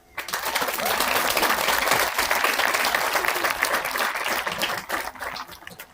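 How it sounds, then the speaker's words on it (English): An audience at a high school graduation ceremony applauds steadily, a dense, loud wash of clapping that holds for several seconds and then tapers off. "all of you deserve a round of applause"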